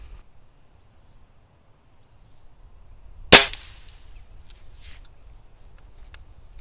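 A single sharp report from a Crosman Fury air rifle, close and loud, rings out once in an otherwise quiet outdoor setting with faint background noise.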